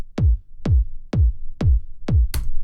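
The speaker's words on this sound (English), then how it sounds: "And the final kick sounds like this." A layered electronic kick drum for a tech house track thumps five times at a steady, even tempo, each hit a punchy click dropping into a deep, round boom, loud and isolated with no other sounds.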